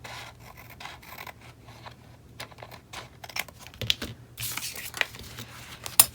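Scissors cut a paper dashboard divider: close, quiet snipping and rustling, with light crinkling of the paper, a few sharper strokes toward the end and no voices.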